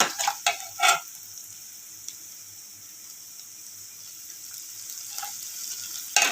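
Kadhi tempering (phodni) roasting in a pan for kadhi bhaji, a soft steady sizzle with a few louder stirring scrapes near the start and again at the end.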